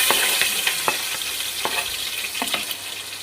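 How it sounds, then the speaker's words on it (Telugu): Onions frying in oil in a pan for a home-style broad bean, tomato and egg curry, a steady loud sizzle with scattered crackles and stirring clatter, no voices. "ఇప్పుడు ఆనియన్స్ అయితే ఫ్రై అయిపోయింది."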